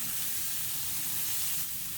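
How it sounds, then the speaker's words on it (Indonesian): Baby green beans sauté in a grill pan still greasy from cooking steak, giving a steady, loud, close-up sizzle and hiss with no pauses. "Baby buncis yang ditumis di grill pan sisa memasak steaknya."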